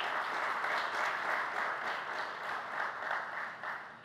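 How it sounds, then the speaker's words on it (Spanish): Steady, dense applause from an audience at a corporate ceremony honoring a retiree, sustained and even throughout with no voices standing out. "Un aplauso para él"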